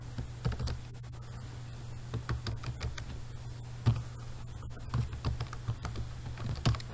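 Rapid, steady keystrokes on a computer keyboard as C++ code is entered, close and fairly quiet, with uneven bursts of clicks and a few sharper taps over a low constant hum, no talking.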